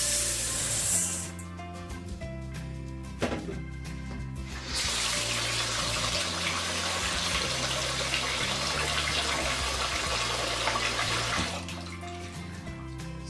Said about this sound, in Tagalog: let's wash the rice first